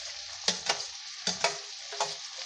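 Brinjal pieces fry in a hot pan for sambar, a steady close sizzle broken by several sharp bursts as the pieces are tossed or stirred, with no voices.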